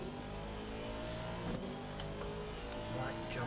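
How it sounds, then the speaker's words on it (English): Aston Martin race car in a PS5 racing game at Misano, its engine revving with a high singing note under the action, steady and fairly quiet with brief gear-change dips and no voices. "Listen to that engine sing. Quite a distinctive note in the Aston."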